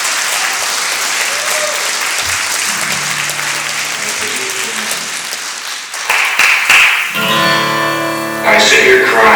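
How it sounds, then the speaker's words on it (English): An indoor audience at a district conference claps loudly and steadily after a welcoming drum song, a dense sustained wash of applause, with a voice speaking briefly near the end. "Can we get another round of applause for the welcoming drum song?"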